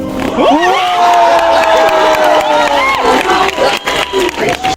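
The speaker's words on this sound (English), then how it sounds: "People went crazy, started screaming and cheering as they appeared on screen." A packed movie theater audience erupts in screams and cheers at a Spider-Man No Way Home screening, a loud sustained roar of many voices with shrill whoops rising over it, slowly easing toward the end.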